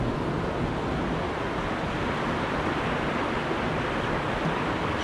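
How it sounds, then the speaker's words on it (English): A fast-flowing river rushes along on a mountain hike, a steady, dense wash of water noise that stays even and fairly loud throughout. "The river is pretty fast right now."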